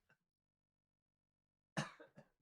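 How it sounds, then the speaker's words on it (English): A single short, sharp cough bursts out close by after near silence, followed by a couple of quieter throaty hacks trailing off. "It's not a COVID cough."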